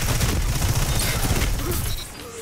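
Sustained rapid auto rifle fire from Destiny 2 fills the whole stretch, a dense continuous rattle of shots that stays loud and eases slightly near the end.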